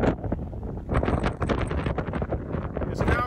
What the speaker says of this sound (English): sorry for the wind. It's very windy.